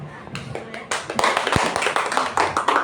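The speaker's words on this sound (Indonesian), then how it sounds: "Tepuk tangan untuk Bu Ami" Audience at a school teacher-mentoring session in Indonesia clapping for a colleague, a short burst of hand claps of a small group, fairly near, with some voices mixed in.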